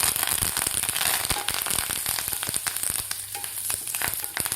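Dried red chillies, a pinch of asafoetida and curry leaves crackle and spit in hot oil for a tomato chutney, a dense continuous sizzle with sharp popping bursts throughout, close and loud with no talk.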